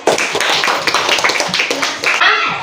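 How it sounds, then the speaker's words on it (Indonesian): Classroom applause for a student group rings out as a dense, steady burst of many hands clapping at close range, lasting a couple of seconds. "berikan tepuk tangan untuk kelompok 1"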